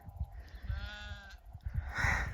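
Sheep on an off-grid hillside in Portugal, with smoke haze in the air, bleating in a few short calls. They sound moderately close against quiet outdoor ambience.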